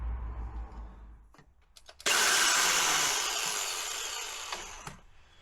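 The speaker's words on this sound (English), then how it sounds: "we're going to have to drill off the heads" After some quiet shuffling, a power drill suddenly whines into steady, loud operation, grinding continuously for several seconds while drilling off bolt heads, before stopping.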